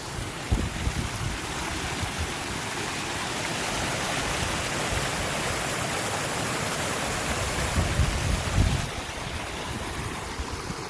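Creek water pours steadily through a breach torn in a beaver dam, a continuous broad rushing roar with gusty low rumbles, heard close by and without any voices.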